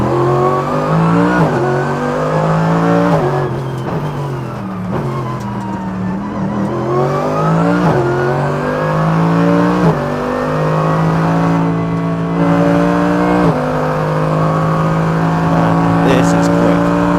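A Mercedes AMG GT3 race car's engine revs hard on track near Wuhan, rising through gears with repeated climbs and short drops at each shift, loud and continuous from onboard, with a voice talking over it.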